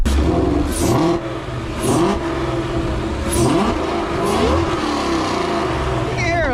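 A supercharged Ford Mustang engine revs repeatedly with a loud, rumbling exhaust, the pitch rising and falling in surges, with voices faintly mixed in underneath.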